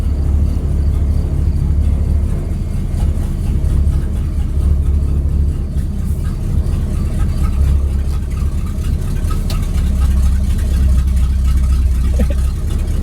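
Deep, continuous rumble of a 1964 Ford Galaxie 500 engine while driving, loud and close from inside the car, with steady low drone and road whir throughout and no clear talk.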